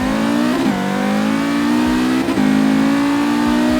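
Car engine revving hard through gear changes in a 60 mph roll race in Forza Horizon 3, a '95 Audi RS2 Avant, rising pitch with two brief shift dips, loud and continuous.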